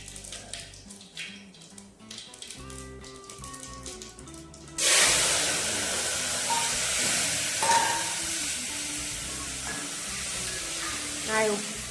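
Tempering for sev tomato curry hits hot oil in a pan, bursting into a loud, steady sizzle partway through after a quieter stretch with a voice, then hissing on to the end.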